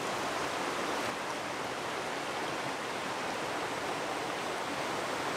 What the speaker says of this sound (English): And the river's cutting a deeper gorge as you head higher up.